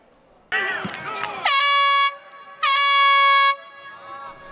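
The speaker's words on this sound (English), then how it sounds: "Two horns sound off the start of another game week" Two long blasts from a loud air horn sound at a USC football facility, each about a second long with a short gap between, preceded by brief shouting and chatter and followed by fading voices.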